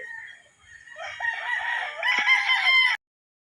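A gamefowl rooster at a straight-breed farm crows once, close and clear, in a long rising call that cuts off abruptly, with a few soft clucks before it.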